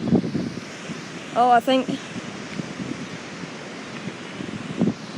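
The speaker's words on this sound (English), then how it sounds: "I'm just recording because high winds." Heavy high winds gust hard around storm-damaged trees in Williamsburg, Kentucky, a continuous roaring rush with louder surges, while a person speaks briefly over it.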